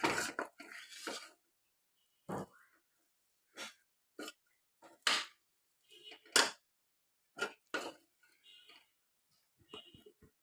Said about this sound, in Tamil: நல்லா அந்த வெல்லம் வந்து எல்லா இடத்துலையும் படுற மாதிரி கிளறி விட்டுக்கலாம்